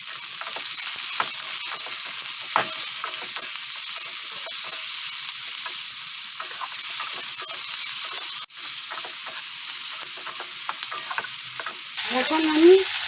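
Chopped capsicum frying with salt in a hot pan, a steady loud sizzle running throughout with scraping stirring and a brief clatter near the end, no voices.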